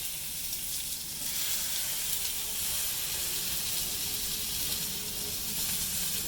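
Fresh pineapple sizzles on a barbecue grill, a steady close hiss and crackle of juice hitting hot grates that continues evenly without a break.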